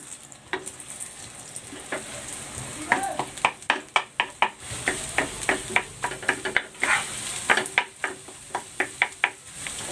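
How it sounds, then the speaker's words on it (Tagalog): Three eggs frying in cooking oil in a pan for restaurant-style fried rice, a steady sizzle punctuated by sharp, rapid scraping taps of a utensil stirring and mixing, close and busy throughout. "Lulutuin ko muna itong 3 egg."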